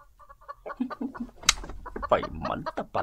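Chickens cluck and squawk in a rapid agitated series after being shooed from a yard, close and loud, with a voice briefly mixed in.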